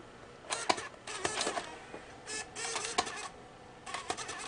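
A struggling computer disc drive makes faint, intermittent whirring and clicking bursts as it repeatedly tries to load a disc, irregular mechanical rattles separated by quiet gaps.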